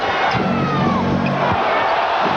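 Arena crowd at the 1991 NBA Finals Game 5 between the Chicago Bulls and L.A. Lakers, a steady roar of cheering and shouting that holds loud and dense across the whole stretch with no pause.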